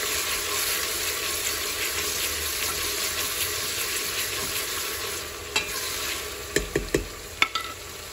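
Onions and garlic frying in a pan, a constant gentle sizzle throughout, with a few sharp clinks and scrapes of a utensil near the end.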